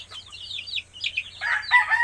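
Backyard chickens cluck and chatter close by in a steady run of short calls, with denser overlapping clucks toward the end and no talking.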